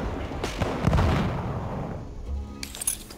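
Battlefield 1 gunfire and heavy booms crackle through a chaotic multiplayer firefight, with a burst of loud shots up front and further sharp reports trailing off near the end.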